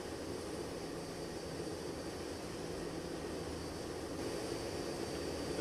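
Boeing 777 taxiing toward the runway in the X-Plane 11 flight simulator, a steady, moderately quiet jet engine whine and rumble holding even throughout, with no talking.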